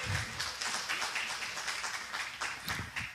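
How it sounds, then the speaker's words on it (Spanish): Audience applause at a church Bible-teaching gathering, a steady, faint wash of many hands clapping heard from a distance, with no talking over it. "Un aplauso para él."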